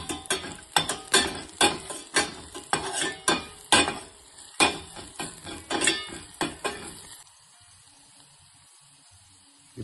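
Chopped garlic and turmeric frying in a pan, stirred with quick, rhythmic scraping strokes that come roughly twice a second over a light sizzle, close by; after about seven seconds the stirring stops and only a faint low hum remains.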